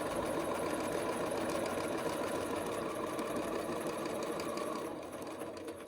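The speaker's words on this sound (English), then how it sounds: "I'm just going to stitch all the way around my rectangle" Sewing machine stitching steadily around a fabric rectangle for a scrap-fabric zip bag, a fast continuous mechanical whir up close that eases off slightly near the end.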